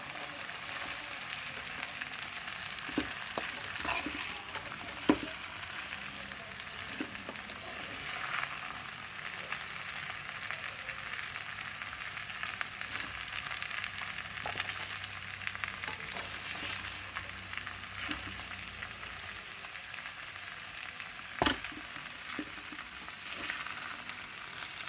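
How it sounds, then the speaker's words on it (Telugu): Green chillies fry in oil for sabudana khichdi, making a faint, even sizzle with occasional light taps of a spatula against the pan, heard alone without speech. "బాగా వేగాలండి."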